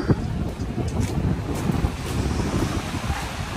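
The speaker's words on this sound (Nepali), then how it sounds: "कस्तो हावा आएको फेरि।" Strong wind buffets the microphone in a steady, gusty rush that persists throughout, on a hiking trail in Hong Kong.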